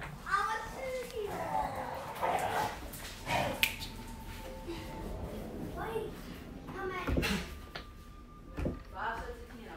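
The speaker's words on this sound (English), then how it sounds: "Now my dogs are going nuts." Dogs bark in scattered bursts at middle distance while a child chatters and a person talks nearby, with occasional clunks in between.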